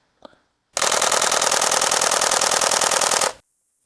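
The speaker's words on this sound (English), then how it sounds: "This camera has a good chunkity chunk to its shutter sound." A Canon 1D Mark III shutter fires a fast continuous burst, a dense rapid machine-gun-like clatter of mechanical clicks lasting about two and a half seconds. A brief faint sound comes just before it.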